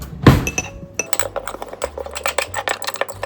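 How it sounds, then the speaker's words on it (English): A special spice fork stirs a pepernoten spice mixture, giving a loud clink at the start followed by a rapid run of light metallic taps and scrapes against the bowl, close and alone. "we just need to stir it up with our special spice fork"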